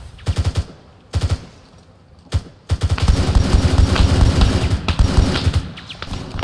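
Gunfire in the military shooter game Arma 3: short rapid automatic bursts, a lone sharp shot, then a long sustained stretch of dense, loud firing.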